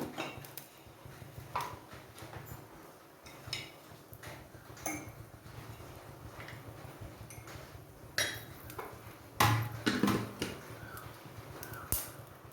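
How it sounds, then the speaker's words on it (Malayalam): Mustard seeds pop in hot oil in a pan on the stove while a pumpkin-leaf thoran stir-fry is being cooked: faint, scattered clicks and crackles, irregular and close. "കടുക് പൊട്ടുന്നുണ്ട്"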